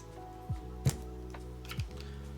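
A few sparse key presses tap on a mechanical keyboard fitted with GMK Boneyard keycaps, soft clicks spaced out over a steady low hum, no talking.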